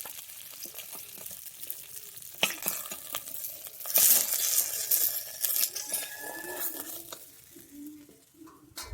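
Fried Bhola fish lifted out of hot oil with a metal utensil, which scrapes and clinks against the pan over a steady frying sizzle. The sizzle flares briefly midway, then settles. No talking.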